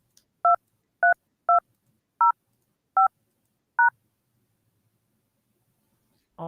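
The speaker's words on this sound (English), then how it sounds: "If you are the moderator, dial your PIN number now." Six separate telephone keypad DTMF tones as a conference-call moderator enters a PIN, clean evenly spaced beeps over near silence, with a brief voice starting at the very end.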